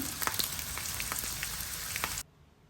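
Onion frying in about a cup of oil, an even close sizzle with scattered pops that cuts off abruptly, leaving near quiet for the final half second.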